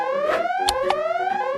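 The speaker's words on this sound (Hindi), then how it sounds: "मुझे अलार्म बंद करना होगा" A loud, close electronic alarm blares with a continuous rising warbling tone, its harsh harmonic wail sounding without pause and broken only by a couple of brief clacking noises.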